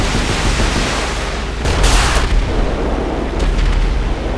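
Explosions and gunfire from a WW2 warship battle in a GTA 5 mod, with a USS Lexington carrier and Hellcat fighters, boom under a constant loud roar, with two sharp bursts near two seconds and another shortly after.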